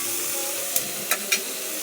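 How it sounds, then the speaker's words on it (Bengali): Bitter gourd frying in hot oil, a loud, continuous close-up sizzle and hiss, broken by three or four brief scraping clicks of a spatula in the pan. "ভেজে নিব লাল লাল করে। লাল লাল করে না ভাজলে করলাগুলো মোটেই খেতে ভালো লাগবে না।"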